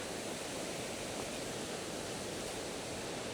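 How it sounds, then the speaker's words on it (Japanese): A waterfall along a sloping forest path in Izu, Shizuoka, heard as a steady, broad rushing roar that holds at a constant level throughout with no other sounds. "ちょっと降りただけで滝の音がね近づいてきました"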